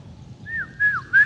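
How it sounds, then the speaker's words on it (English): A sharp warning whistle in an audio drama, blown by a captain to signal his companions: three rising, piercing whistle notes over a low rumbling background, the last one loudest. "letting out a sharp warning whistle to signal the others"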